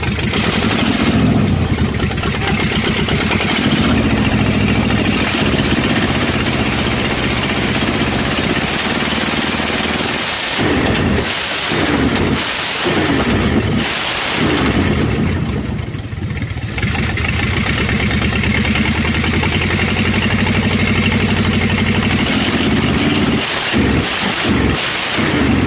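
A 1978 Plymouth Fury V8 runs during cooling system work, a steady loud engine drone with repeated revs rising and falling, some gusty wind noise over the microphone.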